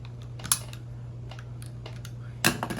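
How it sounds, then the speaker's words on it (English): A craft knife cuts a small 45-degree V groove into acrylic channel letter molding: a few short, sharp scraping cuts, close and fairly quiet, over a constant low electrical hum and no speech. "I'm going to make a small V cut of 45 angle degree"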